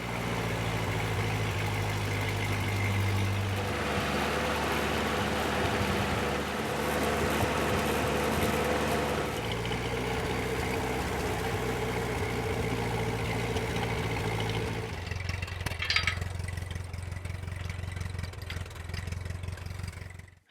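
A truck engine idles steadily while warming up on a warm day, a loud, close, even drone that shifts pitch partway through and roughens near the end, with no talking.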